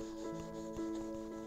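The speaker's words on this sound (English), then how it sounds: "now I'm going to also do the degreasing treatment on my aluminum chassis panel" A cloth wipes an aluminum chassis panel during degreasing before painting, making soft, brief rubbing strokes close by over a steady low hum.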